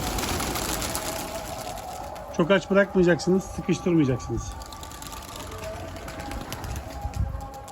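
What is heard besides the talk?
pigeons cooing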